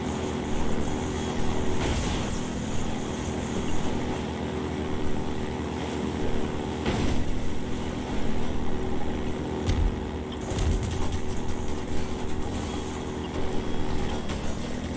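A droning airboat engine in the Half-Life 2 co-op video game, a continuous loud propeller-and-motor roar with shifting pitch, sustained over the whole stretch with a few thumps and bumps along the way.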